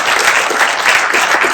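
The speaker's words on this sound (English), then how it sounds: "And let's give that a round of applause." An audience applauds after a speech, a dense, loud burst of clapping that fills the short moment without voices.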